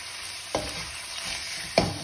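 Chicken pieces frying in a pan for a restaurant-style chicken biriani, a steady close sizzle with two sharp scraping stirs of a utensil against the pan.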